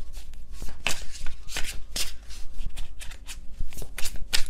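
A deck of tarot cards is shuffled by hand in quick, crisp riffling bursts, close and fairly loud, repeating in an uneven rhythm with no voices.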